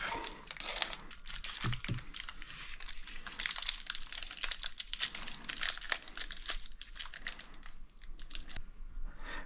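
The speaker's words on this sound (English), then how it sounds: "insulation from the heat I'm just going to try make it up with this tape" Insulation tape being pulled and wrapped around heat-damaged windings of a forklift electric motor, a continuous close crinkling and tearing rustle with sharp crackles, no talking.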